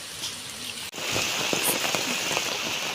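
Heavy rain pours steadily during a storm, a dense close hiss that briefly cuts out near the one-second mark before resuming at full strength; no voices are heard.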